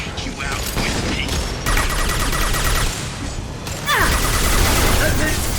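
Sustained heavy gunfire in the sci-fi shooter Mass Effect 2, a dense continuous fusillade of loud rapid shots with mechanical clatter, swelling louder near the end.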